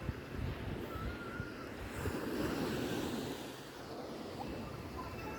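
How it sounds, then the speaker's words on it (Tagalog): Ocean surf rolling onto the shore at a quiet beach resort in Infanta, Quezon, a steady broad wash of waves with some wind buffeting the microphone, swelling slightly midway and continuing without voices. "Nakarating na kami sa beach resort."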